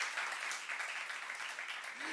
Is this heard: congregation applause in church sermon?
yes